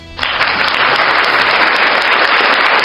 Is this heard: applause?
yes